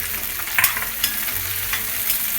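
Chopped onions sauté in a pan with salt for a jackfruit bhaji, a steady close sizzle broken by a few sharp scrapes and knocks of a stirring spoon.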